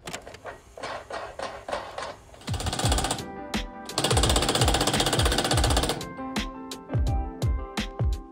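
Rapid bursts from a power tool, likely an impact wrench, drive bolts to fix a fabricated fake beam in a garage shop. Loud rattling runs of a few seconds are separated by short pauses and single clicks.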